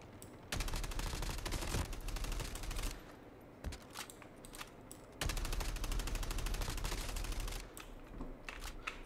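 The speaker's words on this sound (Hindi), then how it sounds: "मुझे के कोई गोलियाँ मार रहा है" Gunfire from the video game Call of Duty Mobile: dense bursts of rapid shots in two long stretches, loud and close, separated by a brief lull broken by single cracks.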